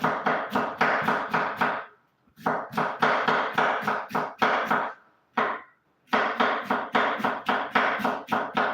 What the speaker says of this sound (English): Then start chopping.